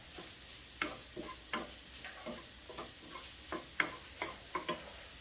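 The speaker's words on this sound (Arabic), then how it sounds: "دابا البنات شحرت خيزو مع البصله" Carrots and onion sauté in a pan, a soft sizzle with a regular series of scraping stirs, close and fairly quiet, about a dozen strokes.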